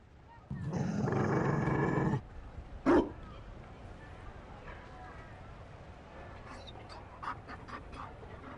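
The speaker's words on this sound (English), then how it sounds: "You found a dog? They don't breed Mabari in Olay." A Mabari war dog from Dragon Age: Inquisition pants and growls in a loud, rough burst close by. A sharp hit follows, then quieter game ambience with a few light chirps.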